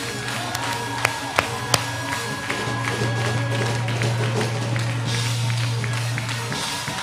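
A Sunday morning church praise service with the congregation clapping; a few sharp claps early, then a dense crowd wash under a held organ-like tone and scattered voices.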